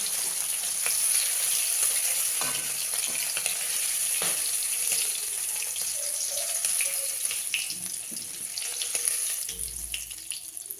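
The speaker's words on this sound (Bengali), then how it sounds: "আর মাছগুলো হালকা ভাজবো" Fish frying lightly in hot oil in a home kitchen, a steady close sizzle with scattered spits and crackles running throughout, with no voices.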